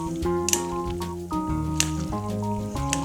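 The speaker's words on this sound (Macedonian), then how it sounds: "Убаво ќе промешам." A three-cheese sauce is stirred into pasta, making wet squishing and squelching sounds in a slow repeating rhythm, close and moderately quiet, with no talking.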